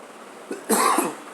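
A single close, short cough with a slight throat-clearing quality, alone against quiet background.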